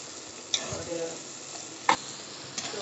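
Masala frying in oil for an egg dish, a soft continuous sizzle broken by a few sharp spoon clinks and scrapes against the pan.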